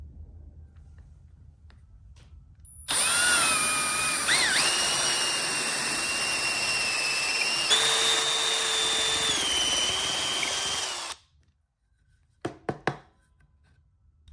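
A power drill fitted with a dowel jig bit whines steadily for about eight seconds, boring holes in wood for kids' furniture, and its pitch dips partway through. A few sharp knocks follow once it stops, all close and with no voices.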